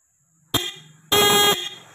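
Renault Triber horn being tested during a wiring fault diagnosis: a brief loud blast, then a longer half-second honk, close and clear with nothing else heard.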